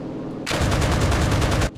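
Rapid 20 mm cannon fire from an aircraft in the WWII game Enlisted, a loud, dense burst of fast repeating shots lasting just over a second, alone and with no talk.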